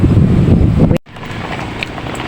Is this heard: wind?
yes